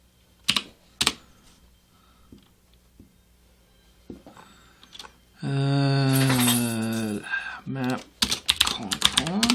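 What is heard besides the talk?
typing code on a computer keyboard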